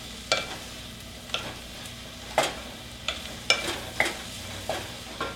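Mushrooms are stirred into oil in a pan, with a series of about eight distinct scraping stirs over a soft sizzle, close and clear.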